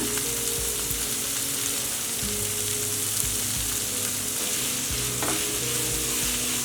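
Quick curry with onions frying on a high flame, a steady loud sizzle with repeated stirring scrapes throughout, close up and without voices.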